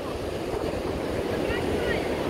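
Strong wind blowing across a beach pier at Praia de Iracema in Fortaleza, heard as a steady, loud broadband roar buffeting the microphone, with faint surf underneath and no gaps.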